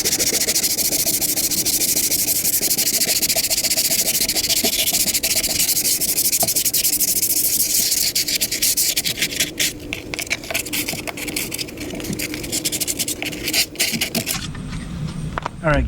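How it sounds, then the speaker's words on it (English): Steady abrasive rubbing of sanding Bondo body filler on a fiberglass jet ski hull, a continuous close, loud scraping that grows more irregular and choppy toward the end. "Let me finish sanding it up"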